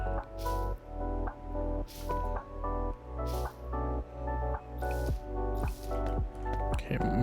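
A wet mop squishes and drips in steady, rhythmic strokes across the floor in a house cleaning simulator video game, with a sustained musical background underneath.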